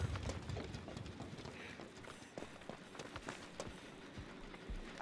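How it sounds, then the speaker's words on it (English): Footsteps from the game Dead by Daylight, a run of quick, uneven thuds over low rumbling game ambience, moderately loud and without talk. "I hear footsteps."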